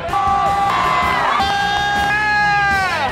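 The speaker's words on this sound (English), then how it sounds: "The student section packs the stands and screams all game long for their team." A packed high school student section in the bleachers at a Trumbull game, loud sustained screaming and whooping from many young voices crowding together up close.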